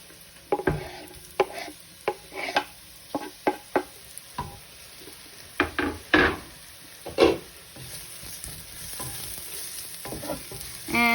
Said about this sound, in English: I'm going to just let the paste cook with the onions for about a minute or so